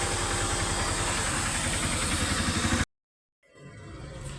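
A car engine idles loudly after an engine service, a steady rumbling drone that cuts off abruptly to silence, then returns more faintly.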